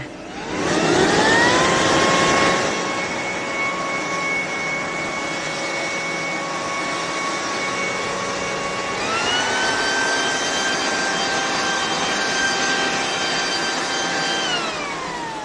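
A loud corded electric leaf blower motor whirs up to a steady high whine, then shifts to a higher pitch and keeps running continuously.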